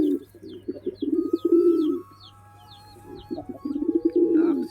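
Domestic pigeons coo repeatedly at feeding time, a run of low throaty rolling calls in two bursts with a pause between, fairly close and steady over faint background chirps.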